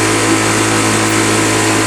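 A Parsun 2.6 outboard motor runs steadily after fifteen minutes of operation, a loud, close, even mechanical drone with a constant humming tone and no talk.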